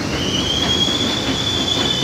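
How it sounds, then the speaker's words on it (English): An elevated train in Harlem, Manhattan rumbles loudly and steadily overhead with a high, sustained wheel squeal over the constant roar and no talking. "There's a train up there."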